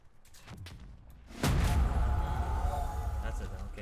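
A single sharp flare-gun shot in CRSED: F.O.A.D. bursts out, followed by a sustained hissing, burning rush that fades slowly, with a player speaking around it.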